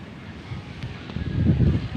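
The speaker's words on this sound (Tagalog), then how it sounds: "Ah, sarap ng hangin." Wind blowing among many trees rushes across the microphone in a steady low roar, swelling stronger and gustier toward the end, with no voices.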